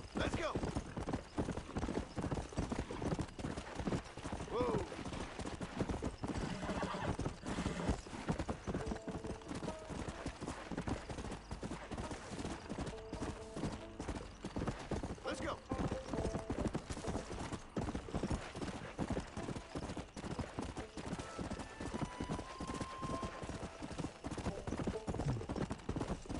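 Horse hooves clip-clop in a steady gallop throughout, with an occasional neigh, in a western video game on the way to Fort Mercer; a voice speaks over the hoofbeats.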